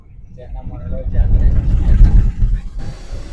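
A vehicle's engine rumbles, swelling and then fading as it pulls away after a visit to the Mantralaya temple, with a voice talking over it.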